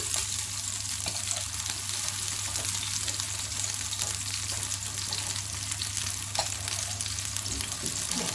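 Turkey kebabs fry in a pan with a steady, soft sizzle and crackle plus a low constant hum, heard alone without talk.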